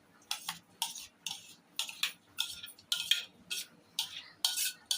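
A utensil stirs and mixes ingredients in a bowl in steady repeated strokes, each one a bright scraping clink, close and clear with no talk.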